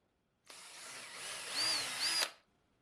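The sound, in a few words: trim router cutting and drilling plywood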